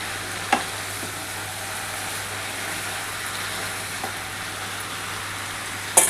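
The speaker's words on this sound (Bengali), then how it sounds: "একটু আলুটা দিয়ে ভালো করে একটু নাড়াচাড়া করে নিই আগে।" Pumpkin greens and potato frying and being stirred in a pan, a steady close sizzle running throughout with a few brief clinks of the utensil and a louder knock at the end.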